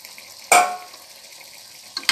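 Soaked chicken dropped into hot oil in a pressure cooker for biryani, giving one sudden loud sizzle that fades into a steady low frying hiss, then a brief stir near the end.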